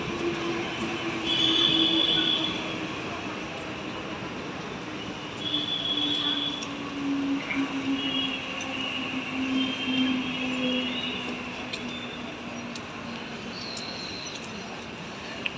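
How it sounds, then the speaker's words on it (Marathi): A Karjat-bound commuter train pulls into a station in the morning with a steady rumble, high wheel squeals and tonal whines that swell and fade. It is moderately close and no talk is heard. "आता ही कर्जतला जाणारी ट्रेन आहे."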